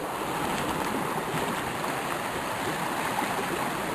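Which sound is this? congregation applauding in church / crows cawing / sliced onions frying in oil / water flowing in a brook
water flowing in a brook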